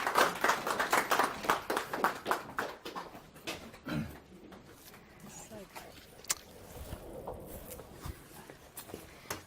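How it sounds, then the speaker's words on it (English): A small group at a book launch claps in a quick burst that thins out to scattered claps, with voices murmuring around it. "I would like to please give a round of applause for Catherine, Louisa and Will Stodulka."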